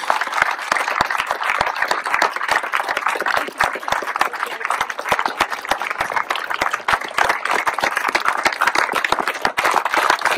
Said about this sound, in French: Applaudissez-les, ils sont tous là, applaudissez-les.